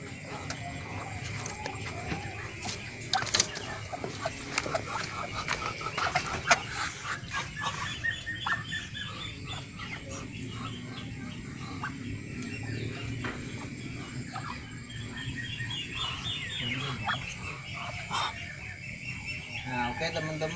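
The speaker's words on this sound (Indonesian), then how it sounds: "Ini adalah termasuk barang entok jumbo." Muscovy ducks and other poultry in a breeding pen make scattered calls and clucks over steady farmyard background noise, moderately near, with a voice talking intermittently.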